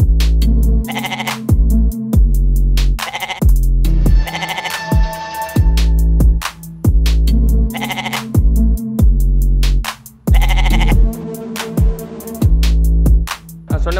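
Goats bleating repeatedly and loudly inside a busy goat meat market, overlapping calls in an irregular rhythm with strong harmonic cries close by.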